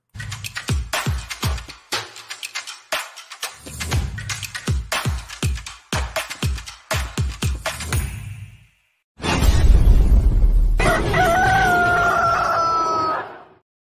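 A channel intro jingle opens with a quick run of sharp rhythmic hits, then a pause, a loud whoosh and a rooster crowing clearly at the end, all loud and upfront without speech.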